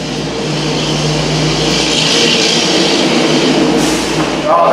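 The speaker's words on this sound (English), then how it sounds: "with the noisy truck driving by" A noisy truck drives past outside a garage during an A/C line repair on a Jeep Renegade, a loud, sustained rumbling roar that swells and holds for several seconds.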